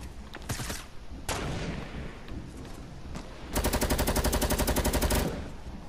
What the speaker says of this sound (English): I hear some shooting over here.